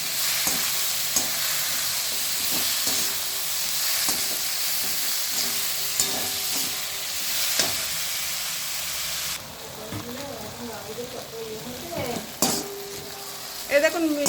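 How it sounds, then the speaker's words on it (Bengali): Mixed vegetables frying with turmeric in a pan: a continuous loud sizzle with sharp scrapes and clicks of stirring, the hiss easing near the end as faint, muffled voices come in. "সবজিগুলো ভালোভাবে আমি ভেজে নিচ্ছি।"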